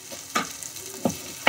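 Ginger garlic paste with onions frying in a pan for matar paneer, a soft sizzle broken by a few quick scraping stirs close by.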